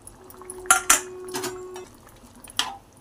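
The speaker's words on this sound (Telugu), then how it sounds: "ఇందులోనే మామిడికాయ ముక్కలు వేసుకుందాం." Raw mango pieces dropped into a pot of mutton curry with tamarind juice, making a few close clinks and soft wet plops against the pot, with a stirring clatter after a short pause.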